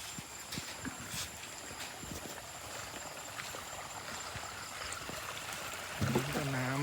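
Rainwater flows outdoors through a rubber plantation after a downpour, a steady, close broadband rush that holds even throughout, with a brief voice near the end.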